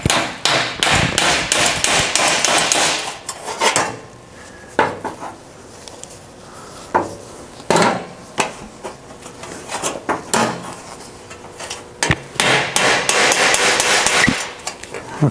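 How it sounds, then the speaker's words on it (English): Rapid metallic hammering of a hammer on a dolly against weld tacks on a steel car fender, coming in dense bursts of ringing blows with short pauses between them, loud and close. "I like to put my dolly on the back side of that tack and stretch these tacks out"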